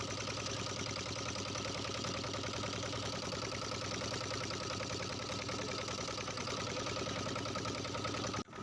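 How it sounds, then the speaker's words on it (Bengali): A small boat's engine runs on a foggy reservoir at Mukutmanipur, a steady mid-pitched mechanical drone with an even chugging pulse, continuous and fairly close, stopping abruptly at the very end. "এবার নৌকাটি চলবে।"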